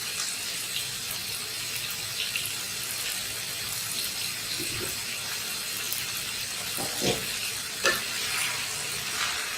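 Sliced onions stirred into chicken masala in a pan for chicken do piaza: a continuous close sizzle of frying with soft, repeated stirring scrapes and occasional louder clicks of the spoon, no speech.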